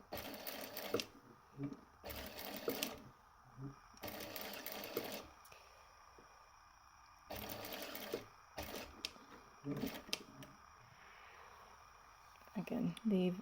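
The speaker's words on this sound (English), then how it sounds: "Back stitch, stop wobbling, go all the way around" A sewing machine back stitches around an unlined patch pocket in short, stop-start bursts of rapid clatter, with pauses and small handling noises between runs and a voice talking at times.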